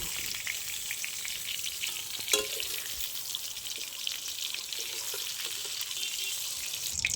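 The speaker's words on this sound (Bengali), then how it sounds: "ওই একই তেলের মধ্যে দিয়ে দিচ্ছি কিছুটা গোটা জিরে, দিয়ে দিচ্ছি একটা তেজপাতা।" Whole cumin seeds and a bay leaf fry in oil left from frying pointed gourd, making a dense, unbroken crackling sizzle close by, with one brief clink and no voices.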